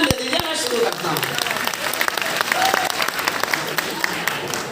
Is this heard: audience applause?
yes